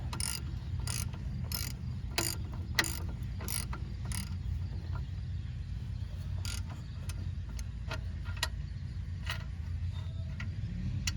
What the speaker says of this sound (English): That's a 21, so we're gonna take it gingerly with our ratchet here.